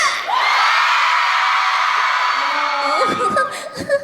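A large concert crowd roars and screams continuously, a dense sustained wall of cheering and shouting that fades as a few voices and talk emerge near the end.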